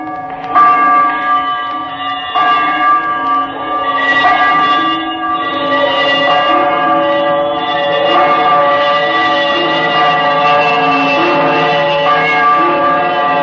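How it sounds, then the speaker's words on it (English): An old bell swinging and ringing as a 1938 radio drama effect, with loud, resonant tolling strokes whose long ringing overtones overlap and sustain throughout, heard alone. "he saw this bell begin to swing"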